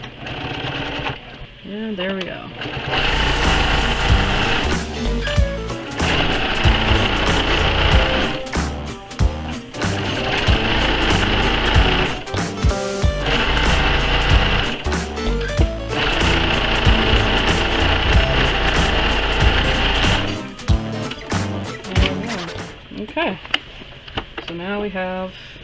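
A sewing machine stitches quilting fabric strips in long steady runs, whirring loudly with brief stops between bursts, while someone talks over and between the stitching.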